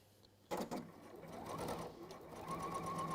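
Close, steady whir of a sewing machine running a holding stitch, starting abruptly and continuing as a fast rhythmic mechanical buzz, with a voice speaking faintly underneath.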